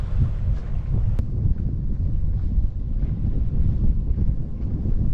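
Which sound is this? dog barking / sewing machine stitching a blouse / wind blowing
wind blowing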